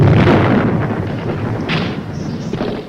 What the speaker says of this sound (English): Miraculously, the exploding booby trap injured no one.